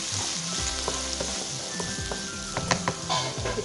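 Ginger, garlic and cashews sizzle in hot oil with sautéed onion for a matar paneer kurma, a close steady fry with occasional scrapes and clinks of stirring.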